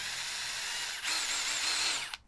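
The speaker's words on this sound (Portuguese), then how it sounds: "chegou, ó, minha furadeira da Xiaomi. Essa aqui não é só parafusadeira não, essa aqui é furadeira também." A Xiaomi cordless drill, sold as both drill and screwdriver, runs with a steady high motor whine, close and loud. The pitch shifts up about halfway through, then it cuts off abruptly. No talk is heard.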